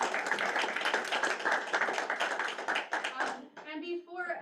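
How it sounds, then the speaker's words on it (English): A room of attendees at a school board meeting claps in a dense, steady round of applause that stops abruptly near the end, when a person begins speaking. "All right, one more round of applause."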